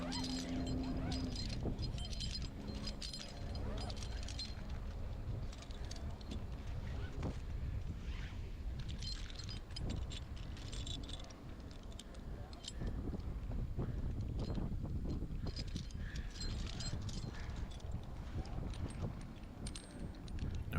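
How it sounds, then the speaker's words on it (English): Strong, gusty wind of about 20 to 30 mph roars steadily outdoors during a red oak tree removal, buffeting the microphone with continuous low rumbling and occasional higher rustles. "So you hear that wind. That wind that day was pretty strong."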